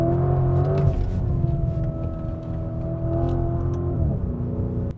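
A Lamborghini Urus SUV driven hard, its engine note rising and falling through shifts with a deep rumble and whirring drone, loud and close throughout.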